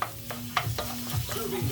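Fried rice is stirred in a hot pan: repeated scraping strokes over a continuous sizzle, close and fairly loud, with no talking.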